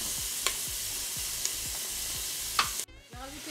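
Onions sautéing in a Cookeo multicooker pot, a steady close sizzle with a few soft stirring scrapes before the frying noise drops away near the end.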